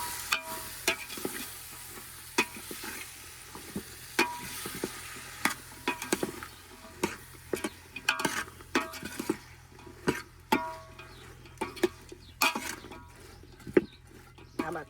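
A spoon stirs upma with tomatoes in a pan, a string of soft scraping and tapping strokes over a quiet sizzle, close and fairly faint, with no talking.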